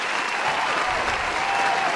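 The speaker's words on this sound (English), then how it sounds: "Let's have a round of applause for our wonderful guests" A live studio audience gives a dense, sustained round of clapping for podcast guests, loud and even throughout with a faint murmur of the crowd beneath.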